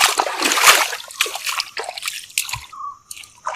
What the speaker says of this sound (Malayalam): അതുകൊണ്ട് വെള്ളത്തിലൂടെ ഇറങ്ങി നടന്നതാണ്